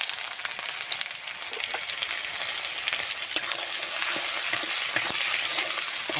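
Black cumin, chopped green chili, garlic and onion frying in mustard oil as a tempering for greens, a steady close crackle of sizzling with bursts of popping and stirring clatter.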